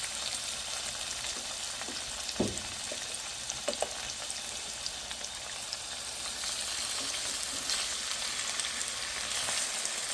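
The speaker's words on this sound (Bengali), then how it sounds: "এভাবে আস্তে আস্তে আমি ফ্রাই করে নেব" Marinated salmon fries in olive oil in a pan with a steady, close crackling sizzle. A few sharper pops and clinks break through, and there is no talk.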